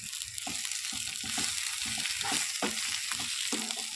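Chili, turmeric and coriander powder stirred in a frying pan give a steady close sizzle, with repeated scraping strokes of the spoon and no voices.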